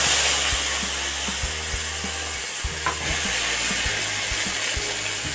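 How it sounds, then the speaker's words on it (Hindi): Food is stirred and roasted in a pan with a steady sizzle, and a spoon scrapes and knocks against the metal in a loose, repeated rhythm, close up and with no talking. "ऐसे उलट पलट कर मैं लाल करके भूंज लूंगी"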